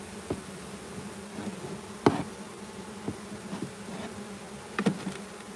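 Honey bees buzz around an open beehive during hive maintenance, a steady close drone with scattered knocks and clicks of handling equipment.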